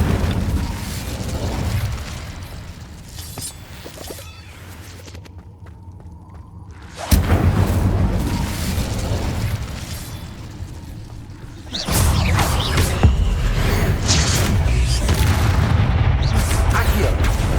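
Incendio fire spells cast in a cave in Hogwarts Legacy, heard as two loud, roaring, whooshing fiery bursts, each followed by sustained crackling noise, with quieter game ambience between them.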